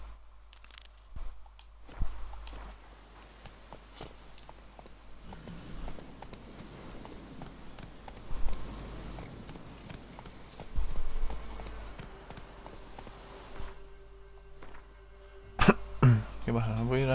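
Roach, the horse in The Witcher 3, clip-clops along in irregular, fairly quiet hoof beats, with brief voice-like sounds and game noises around it.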